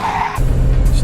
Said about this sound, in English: I can do burnouts with confidence now.